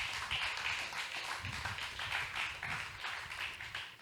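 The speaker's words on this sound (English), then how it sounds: "we want to go ahead and give a round of applause to my guest" A small audience gives a round of applause for a guest at a crypto meetup, soft and somewhat distant clapping that swells and eases in waves for about four seconds.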